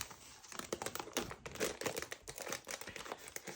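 Crinkly cellophane is peeled off a sealed vinyl record of the Dune: Part Two soundtrack, close, quiet crackling and rustling in quick irregular bursts with no talk.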